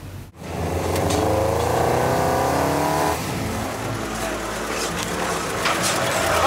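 A white Lada Niva off-road car revs hard in a mud race, its engine climbing and falling in loud, strained bursts, then settling into a rougher rumble with crowd noise faintly behind.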